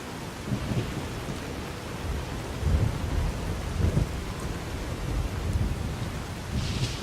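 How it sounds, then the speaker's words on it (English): Thunderstorm rain in the desert of the video game Fallout New Vegas, a steady dense hiss of downpour with low rumbles of thunder rolling underneath, and no voices. "my God, the rain."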